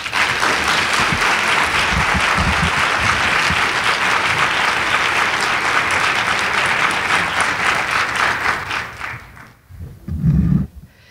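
Audience applause greets a senator taking the stage at a conference welcome, a dense, steady wash of clapping that holds for about nine seconds before fading, with a brief low thump near the end.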